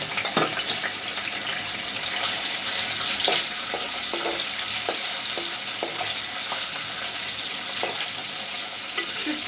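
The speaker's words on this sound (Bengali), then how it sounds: "শুটকি কিন্তু প্রথমে একটু তেলে ভেজে নিই" Dried ribbonfish (shutki) frying in hot oil, a steady broadband sizzle throughout with occasional small pops and spatters, close and fairly loud with no talking.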